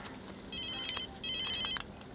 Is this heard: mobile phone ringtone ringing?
yes